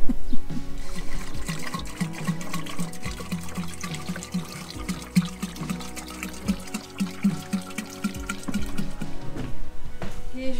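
Water running and filling a container on a home-building site in central Portugal, a continuous trickling splash with gurgling that swells and dips over a low hum, fairly loud and with no talking.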